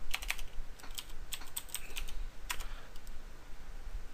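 Rapid typing on a computer keyboard while entering commands to configure a Cisco network switch: a steady stream of close, crisp key clicks with uneven rhythm and no voices.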